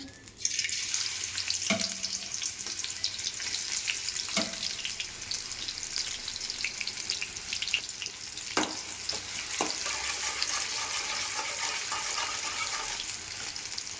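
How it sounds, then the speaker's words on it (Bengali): Chopped onions fry in hot soybean oil for beef biryani, a steady bright sizzle across the whole stretch with a few sharp clinks of utensils against the pan, no speech. "তেলটা গরম হয়ে গেলেই পেঁয়াজ বেরেস্তার জন্য পেঁয়াজটা অ্যাড করে দেব। দিয়ে দিচ্ছি এবার কুচিয়ে রাখা পেঁয়াজ।"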